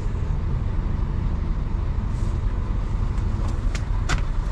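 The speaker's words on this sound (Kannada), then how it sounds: "ಬಸ್ಸಿನ ಸೌಂಡು ಸಕ್ಕತ್ತಿದೆ ಗುರು." A Hyundai Universe bus idles with its engine running, a steady low rumble heard from close by with a few faint clicks and taps toward the end, no speech.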